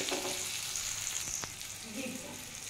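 Ground cumin and turmeric sauté in a pan for vegetarian spinach paneer, a steady soft sizzle with occasional stirring scrapes, close but fairly quiet.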